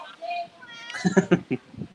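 A pet cat meows several times during a livestream, short tonal calls in a quick rhythmic run at close range, with a person's voice talking before and between them.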